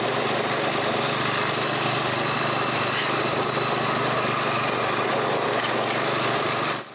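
A lawn mower engine runs steadily and loudly close by for the whole stretch, a constant droning hum that cuts off abruptly at the very end.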